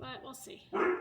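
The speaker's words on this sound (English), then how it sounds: "sorry about my dog." A dog barks once, loud and close, at the end of a brief moment in a home kitchen while a person is speaking.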